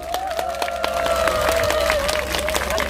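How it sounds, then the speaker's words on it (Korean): An audience claps together in a steady, quick rhythm, loud and close, with a sustained voice-like tone carried over the beat. "박수하신 분은 지금 박수 한번 쳐보세요."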